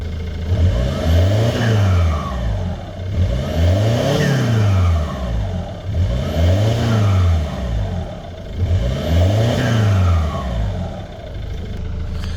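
A high-mileage Ford Mondeo with a straight-pipe exhaust revved repeatedly, four loud rising-and-falling engine sweeps in a steady rhythm, close and alone.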